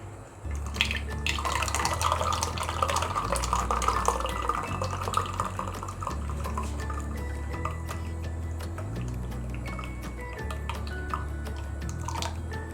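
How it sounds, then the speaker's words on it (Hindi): Mango squash pours into a bottle with a continuous close trickle and splashing, steady throughout, with faint clinks and a low hum underneath. "अब हम इसको बोतल में डाल रहे हैं।"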